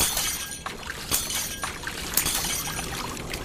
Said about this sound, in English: The water increased so forcefully it cracked the glass.